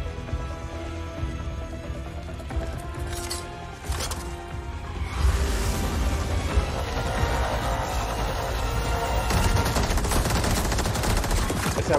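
Bursts of rapid gunfire and single shots crackle through a busy Mortal Kombat 11 game soundscape, continuous and fairly loud, with no talking.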